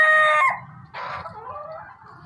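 Laying hens cluck and a rooster lets out a brief crow, loud and close, over a constant background murmur of a flock.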